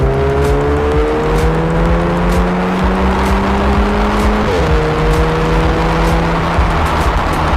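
A Volkswagen GTI MK6/MK7 hot hatch drives with a loud, continuous engine note that climbs in pitch through the gears, shifting once midway before revving up again, with road and tire noise close by.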